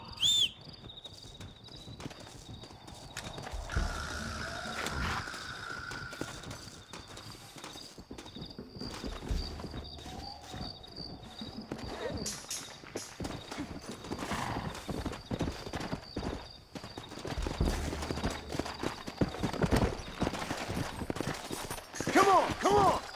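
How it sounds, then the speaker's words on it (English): Horses in the Red Dead Redemption video game trot with a steady clip-clop of hooves and an occasional whinny, alongside mechanical in-game sounds over about twenty seconds, with faint voices in the background. "Looks like Carlos left us some horses."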